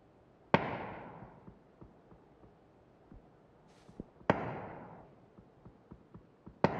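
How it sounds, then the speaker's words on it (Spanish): Two loud distant gunshots in a video game with rolling echoes, separated by several seconds, with scattered small clicks and taps in between. "Tiros a mi derecha"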